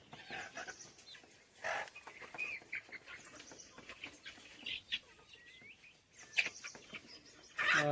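A chicken placed in a bag for weighing clucks and chirps in short, irregular bursts, with faint rustling and handling noises, fairly quiet overall.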